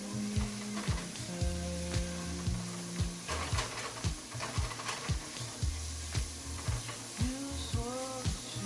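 Homemade tomato sauce cooks in a pan with a steady close sizzle and frying crackle, with rhythmic clinks and scrapes of a stirring utensil running throughout.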